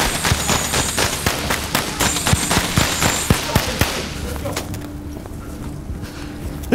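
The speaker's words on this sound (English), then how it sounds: "Gun!" Gunfire at a church shooting: a rapid, dense burst of sharp cracks fills the first four seconds, then gives way to a quieter room with low murmuring.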